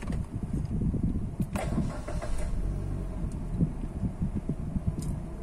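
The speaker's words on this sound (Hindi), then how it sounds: "मैं गाड़ी आपको स्टार्ट करके भी दिखा देता हूँ" A Maruti Suzuki Baleno car engine cranks and starts, then settles into a steady, moderately loud idle.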